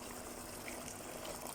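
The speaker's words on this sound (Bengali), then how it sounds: "দিলাম গরম পানি।" Hot water poured into a pot of cooking chicken curry with potatoes and coriander leaves, a steady, quiet, hissing wash of liquid lasting a moment with no voices.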